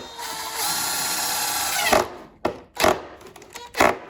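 A power drill drives a screw to fix a rustic wooden knob onto a cabinet door, with a sustained whirring run that ends, then three short loud bursts of the drill pulsing close by.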